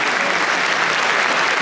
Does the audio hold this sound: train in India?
no